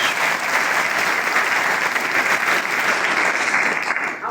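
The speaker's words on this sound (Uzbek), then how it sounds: "Mana shu yigitlarni haqiga bitta qarsak qilishar salatimiz." An audience at an outdoor victory celebration in Oltinsoy district, Surxondaryo, claps together in a loud, sustained burst of dense applause that holds steady and tapers only slightly at the end.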